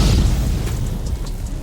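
A purple rasengan attack explodes in a deep, sustained booming rumble, loud and close, with crackling bursts over the low roar.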